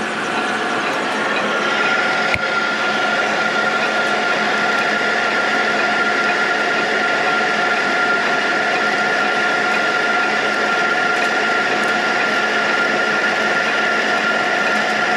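A metal lathe cuts steadily with a continuous whirring, humming mechanical drone, with one sharp click early on and no talking.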